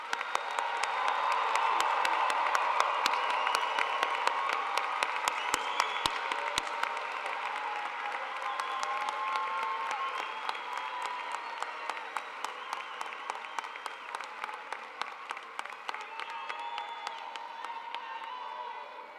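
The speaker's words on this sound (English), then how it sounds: "Let's give everyone one more round of applause." Graduate and professional hooding ceremony audience applauding in a large hall, dense sustained clapping with some cheering and whoops that slowly thins toward the end.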